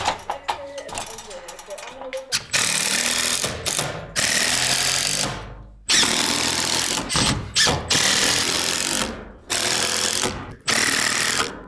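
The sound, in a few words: power drill driving screws into OSB header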